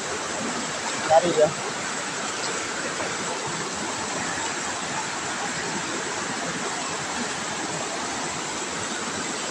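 Fast, rushing river water of the Talo river flows steadily and loudly throughout, a constant broadband roar, with brief voices talking near the start.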